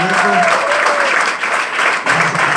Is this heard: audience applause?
yes